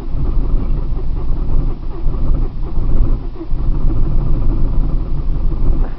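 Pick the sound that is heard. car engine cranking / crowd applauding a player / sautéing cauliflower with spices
car engine cranking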